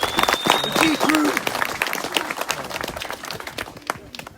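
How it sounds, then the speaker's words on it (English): An outdoor audience at a scale-trailing RC event in South Wales breaks into a round of applause, dense clapping at first that thins out over a few seconds, with voices speaking over it. "please, one more time, big round of applause for"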